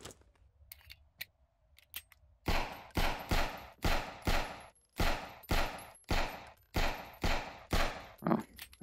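Handgun shots at melons in the video game BAM ring out in a steady series of about a dozen sharp, evenly spaced reports after a quiet start, each with a short decaying tail.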